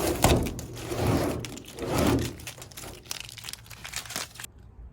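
Tape being peeled off the door of a new cargo trailer makes a sticky crinkling, tearing rasp in two long pulls, then smaller crackles and rustles, close by with no speech.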